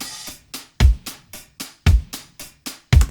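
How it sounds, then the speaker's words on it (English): A drum pattern of steady kicks and snare hits, each followed by a quick slapback echo from a Valhalla delay effect, punchy and close with no talking. "So I emulated that here with Valhalla delay."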